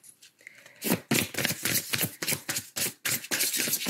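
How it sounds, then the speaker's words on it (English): A deck of oracle cards being quickly shuffled, giving a run of crisp riffling bursts close by, about a dozen quick pulses after a quiet start. "I'm just doing a quick shuffle again"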